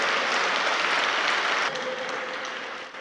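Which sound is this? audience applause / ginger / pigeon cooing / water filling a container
audience applause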